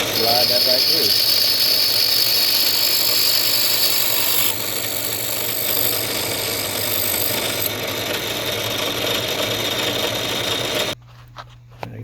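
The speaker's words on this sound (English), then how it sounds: "turn the drill press on, and I'll just slide that right through" A drill press runs steadily with a high whine and motor hum as wire is slid through, the machine noise continuing near and loud for about eleven seconds before cutting off to near quiet.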